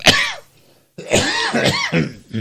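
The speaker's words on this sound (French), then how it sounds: "Excusez-moi pour la toux" A single sharp cough bursts out near the mic and fades, then after a brief silence a throat-clearing cough follows, with harsh rough bursts in an indoor web radio broadcast setting.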